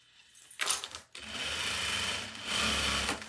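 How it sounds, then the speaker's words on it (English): A sewing machine winds a bobbin at high speed with a steady whirring motor hum that starts after a short pause, holds loud and even, and swells slightly near the end. "that bobbin be winded fast"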